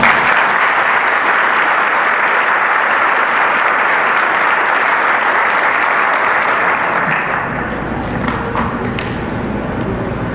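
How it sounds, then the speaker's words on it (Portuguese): A church congregation applauds in sustained, dense clapping that holds steady before thinning slightly toward the end, with no voices standing out. "Você pode aplaudir o Senhor?"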